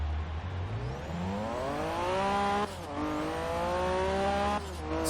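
Turbo Honda NSX in the game Forza Horizon 3 doing a slow roll launch, engine note climbing steadily through the revs, a brief dip at a gear change, then climbing again before another shift; no talk.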